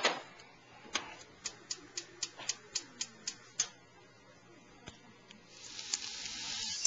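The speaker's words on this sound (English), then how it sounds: "get the flame started up" A gas stove burner's igniter ticks repeatedly, about a dozen sharp evenly spaced clicks close by, then the flame catches with a soft rising hiss, all quiet with no voices.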